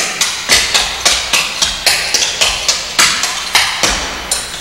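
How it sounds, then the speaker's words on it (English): Crisp tap dance footwork in an advanced routine: double step, scuff, drag, flap and toe hop. Sharp metallic taps fall in quick, evenly spaced rhythmic clusters, close and loud, with no talk. "double step, scuff, drag, flap, slide, toe hop, scuff, drag, flap, step, toe slide"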